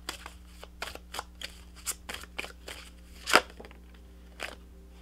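Tarot cards handled and pulled from a deck during a reading, a series of soft, close, papery flicks and shuffles with one sharper snap near the middle, over a quiet room background.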